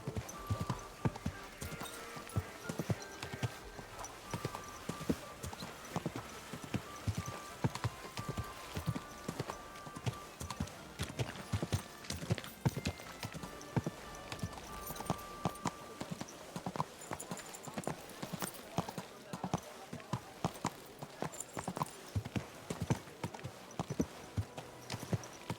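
Video game horse hooves clip-clop at a steady walking rhythm, fairly faint, with occasional soft voices in the background.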